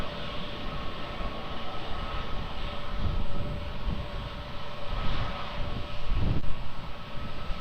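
An airliner on the runway at Lisbon Airport gives a steady, broad jet roar heard from a distance, building gradually and holding throughout.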